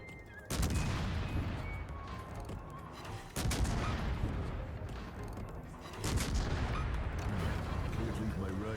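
Naval gun salvos from a Tier X American premium destroyer, USS Hull, in World of Warships, with three loud booming volleys whose rumble lingers between shots.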